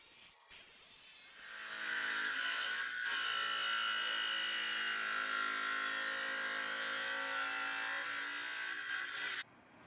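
Saw making finger cuts in ceramic tile for a bathroom floor, a loud steady high whine that starts, holds for several seconds, then cuts off abruptly, with no voices.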